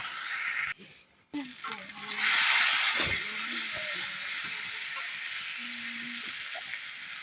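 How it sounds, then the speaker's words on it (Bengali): Whole cumin and spice paste frying in oil in a wok, a sustained close hiss of sizzling with a few clanks of the utensil before it swells and holds steady. "কড়াইয়ে তেল দিয়ে দিলাম দিয়ে গোটা জিরে দিয়ে দিলাম তারপর মশলাটা দিয়ে কিছুক্ষণের জন্য ঘষিয়ে নেব"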